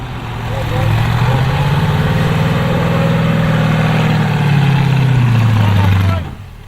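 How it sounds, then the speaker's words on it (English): A 4WD vehicle with a 350 motor running straight gas idles nearby, its low steady rumble holding level and then shifting in pitch before cutting off abruptly near the end. "It also has a 350 motor in it running straight gas."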